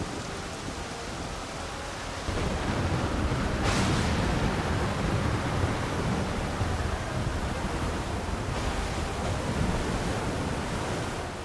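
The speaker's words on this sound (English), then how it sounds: "The heaving waves tossed our ship about like a toy" Raging storm-tossed ocean waves in Final Fantasy XIV, a dense, continuous roar of surf that swells louder after the first two seconds and holds steady with broad crashing wash throughout.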